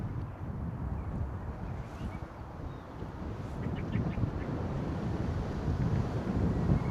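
Strong gusting wind buffets a compact clip-on wireless microphone near a football stadium outdoors, a steady low rumble that swells louder over the second half, with faint duck-like calls in the distance.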